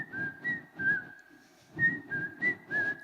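A person whistles an imitation of the Indian cuckoo's call: short repeated notes grouped in phrases of three or four with a brief pause between groups, heard close and clear with no talking.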